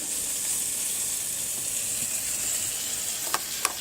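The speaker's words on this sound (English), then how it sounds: "There's nothing better than the sizzle of fresh fish on the barbecue." Steady, bright sizzling of fresh snapper frying on a barbecue grill, a constant crackling hiss with two sharp pops near the end.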